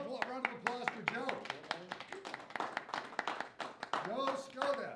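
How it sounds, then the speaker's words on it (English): An audience at a Toastmasters anniversary meeting gives another round of applause for a member: a modest patter of hand claps runs steadily under voices and cheering throughout. "One more round of applause for Joe."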